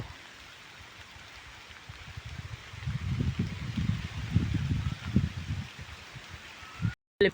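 Rain patters on a farm field where crops are being irrigated, a soft hiss that grows denser and louder midway through before tapering off, with no voices.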